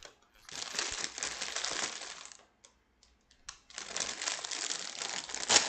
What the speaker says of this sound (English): Yeah, that's what you're hearing is my bag.